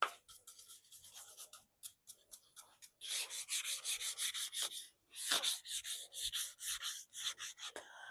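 Wooden porch chairs being sanded by hand with fine P240 sandpaper, a steady series of close, rasping back-and-forth strokes, short and sparse at first, then longer and continuous.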